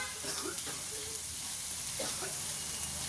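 Ginger-cumin paste frying in oil, a quiet even sizzle and hiss with faint intermittent stirring noises, a few murmured vocal sounds in the background.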